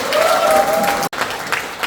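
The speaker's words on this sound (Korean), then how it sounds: "우리 선배님들을 위해서 다시 한번 큰 박수 부탁드리겠습니다" An audience at a second-anniversary ceremony in a National Assembly members' office building conference room applauds in a dense, steady wash, broken by a brief dropout just past the midpoint before the clapping resumes.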